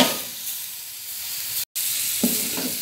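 Minced meat sizzles steadily in a hot pan, a continuous close hiss of frying broken by a brief gap and a couple of stirring scrapes near the end.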